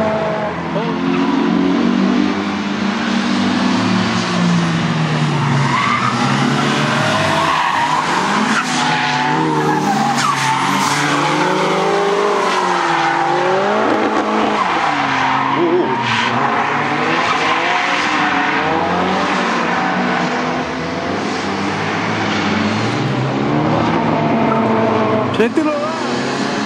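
A drift car at a drifting practice session slides with continuous tire squeal and a revving engine, the screech rising and falling across long sweeping drifts, loud and close, with voices talking over it.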